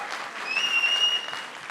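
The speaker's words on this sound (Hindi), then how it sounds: "उनके लिए जोरदार तालियां हो जाए" Moderate crowd applause at a Netflix stage event for a show's cast and team, steady clapping throughout a short stretch with a thin tonal whine briefly riding over it.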